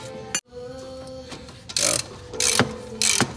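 A ratchet clicks in several short, sharp bursts while a tie rod jam nut on a 2004–2014 Mazda 6 is being tightened, close and fairly quiet, with pauses between strokes and no talk.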